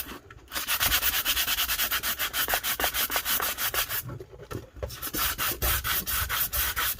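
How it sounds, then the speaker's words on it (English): Rapid rhythmic sanding of a cup, a coarse scratchy rasp in quick back-and-forth strokes, close and loud, pausing briefly once before continuing. "I'm going to end up sanding the whole cup anyways"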